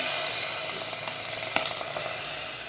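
Tomatoes tipped into a hot bowl on a stove sizzle steadily, a dense close-up frying hiss that holds evenly throughout, with a brief sharper crackle near the middle.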